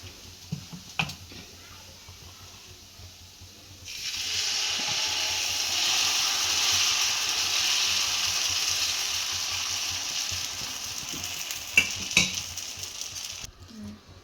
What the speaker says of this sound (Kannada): ಇವಾಗ ಹಂಚ್ಕಾಯಕ್ಕೆ ಇಟ್ಟಿದ್ದೆ, ಕಾದಿದೆ. ಸ್ವಲ್ಪ ಎಣ್ಣೆ ಹಾಕ್ಬಿಟ್ಟು ಒಂದು ಬಟ್ಟೆಲಿ ಸ್ವಲ್ಪ ಸ್ಪ್ರೆಡ್ ಮಾಡಿಕೊಂಡು